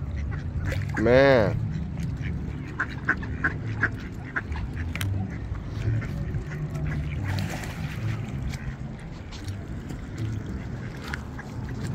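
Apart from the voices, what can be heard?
ducks quacking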